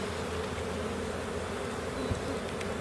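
Honey bees swarm densely around an open hive during a spring inspection, making a steady, close, full buzzing hum that holds at an even level throughout, with no voices.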